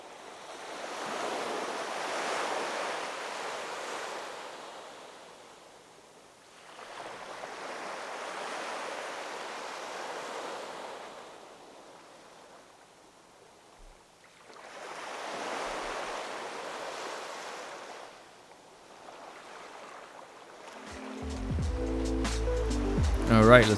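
Waves wash ashore on a beach at the Baha Mar resort in slow surges, rising and falling roughly every seven seconds, with a soft hiss between them and a brief rustle at the end.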